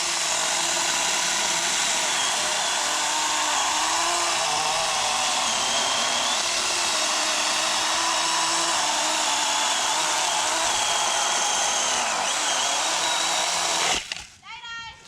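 A chainsaw cuts a tree branch on a Christmas tree farm, its engine whining steadily and loudly for most of the clip before cutting off near the end.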